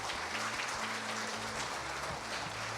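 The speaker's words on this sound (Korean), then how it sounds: "따뜻한 박수 부탁드립니다" An audience at a rural agriculture award ceremony applauds in a soft, continuous wash of clapping, with low sustained music tones running underneath the whole time.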